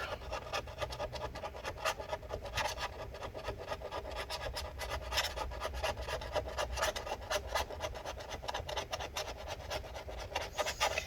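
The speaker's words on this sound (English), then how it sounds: "So we're just going to scrape out all this adhesive" Adhesive is scraped from inside a 2012 15-inch Retina MacBook Pro A1398 during battery replacement, a continuous dry rasping and scratching close up, with quick repeated strokes and no talking.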